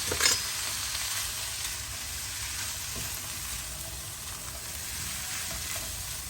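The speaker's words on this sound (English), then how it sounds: "So we'll just give that a quick stir." Masala sizzles and fries steadily in a pot with chicken giblets for a Fiji-style curry, a loud continuous hiss with a brief stirring scrape at the start and no talking.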